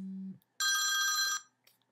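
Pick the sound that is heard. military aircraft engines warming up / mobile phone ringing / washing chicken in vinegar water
mobile phone ringing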